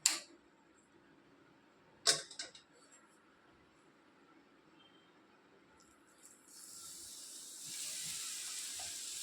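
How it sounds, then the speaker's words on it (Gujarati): Hot oil poured over spices for a sweet-and-sour mango pickle sets off a bright hissing sizzle that swells in the last third and keeps going steadily. A couple of sharp clinks come earlier over a quiet kitchen. "તો હવે આપણે તેલ આમાં ઉપરથી એડ કરી દઈએ."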